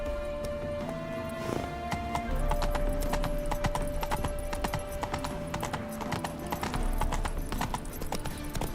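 Horse hooves clip-clop steadily in The Witcher 3: Wild Hunt, a brisk, even rhythm of hoofbeats over a sustained musical tone and ambient game sound, close and continuous without speech.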